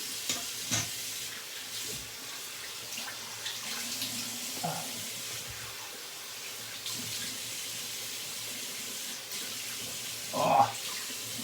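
Running tap water splashes in a sink as a freshly shaved face is rinsed, a steady close wash with a few louder splashes and brief wet sloshing bursts, no talking.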